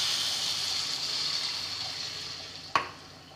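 A pan of kothavarangai kara kulambu sizzles with a steady, hissing bubbling, then a sudden splash and gush as water is poured in, after which the sizzling softens.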